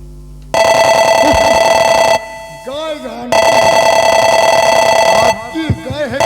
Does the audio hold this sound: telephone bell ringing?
yes